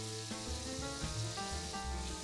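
Asparagus hissing and sizzling in a spoonful of butter in a very hot pan, a dense, continuous crackle heard close up, with no talk over it.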